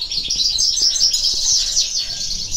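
A caged European goldfinch sings in rapid, bright, twittering chirps, close and fairly loud, running continuously over a soft low background rumble.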